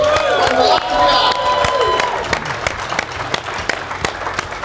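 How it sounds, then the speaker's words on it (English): At a poker main event, the audience applauds and cheers for the champion, a loud crowd whose energetic clapping and cheering fade into scattered claps over a few seconds, with background voices mixed in. "please give a round of applause for Christianis Stankovics from Latvia."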